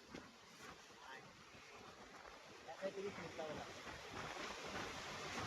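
Stormy wind and breaking waves at sea on a fishing trip, a steady broadband roar with buffeting gusts on the microphone that swells slightly toward the end, with faint voices underneath.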